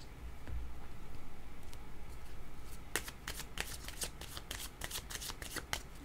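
A deck of cards shuffled for a card reading: first a soft, continuous rustle, then a run of quick, crisp riffling snaps, close and clear, with no talking.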